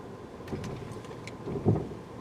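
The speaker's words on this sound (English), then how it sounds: "It's a clunking noise in the back." A bad rear trailing arm bushing on a Hyundai Elantra gives a couple of dull clunks from the back as the rear tires hit bumps and a pothole, the loudest thump near the end, over steady road and cabin rumble.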